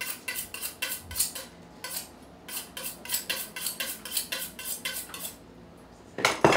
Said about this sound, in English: I'm going to make sure my knives are sharp